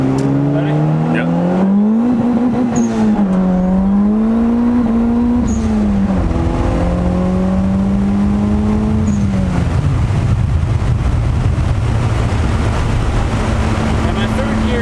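A turbocharged Honda B20 VTEC car accelerates hard on a freeway toward 80, its engine note climbing steadily through the gears with brief dips at each shift, loud and close from inside the cabin.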